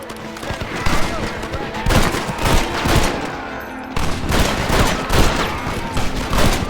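Rapid bursts of gunfire in a shootout in the video game Red Dead Redemption, loud and sustained volleys of overlapping shots, with characters shouting between them.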